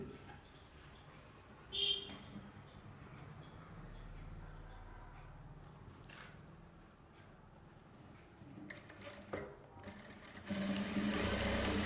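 A sewing machine stitches a blouse for a pattu saree. The room is quiet with soft handling noises, then a short, steady whirring burst of stitching comes in near the end.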